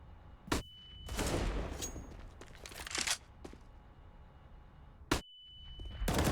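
Gunfire in a Counter-Strike: Global Offensive match on the Overpass map, with the Desert Eagle pistol in play, comes as several sharp loud cracks and bursts over steady game noise and crowd ambience.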